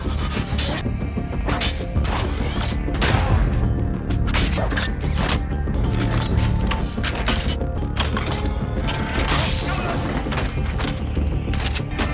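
In a Korean drama scene with a weapons shop for assassins, loud gunfire crackles through a dense, continuous action mix, with crashes, booms and dramatic music.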